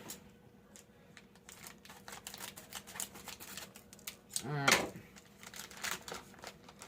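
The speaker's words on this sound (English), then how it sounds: "had to grab a pair of scissors there" Brief crinkly snipping as scissors cut through a plastic packet of freeze-dried food, with rustling around it and someone speaking a word or two.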